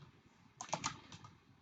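A short burst of typing on a computer keyboard, several quick close key taps in a row over quiet background.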